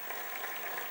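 Audience at an Indonesian stand-up comedy show clapping in a dense, steady burst of applause, fairly distant and uniform for a moment.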